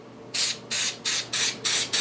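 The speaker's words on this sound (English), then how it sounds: "You shake it up, and then you just spray paint it on." Five short bursts of silver spray paint mist from an aerosol can, evenly spaced hisses with brief pauses between them, close by.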